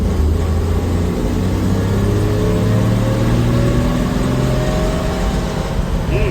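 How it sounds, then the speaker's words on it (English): A 1956 Chevrolet 235 engine accelerates and revs nearby, a loud, continuous drone that climbs steadily in pitch and holds for several seconds with no talking. "we want to accelerate and listen for detonation"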